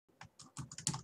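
Quiet, brief burst of typing on a computer keyboard, a handful of soft, irregular key taps close to the microphone, with no voice.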